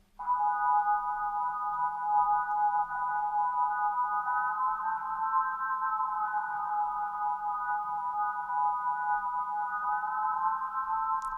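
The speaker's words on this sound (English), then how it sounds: "The last sound on here is this filtered organ that sounds like this." A filtered organ patch from a Juno 60 emulation plugin holds a steady sustained chord for about eleven seconds, smooth and even with no rhythm and no voices.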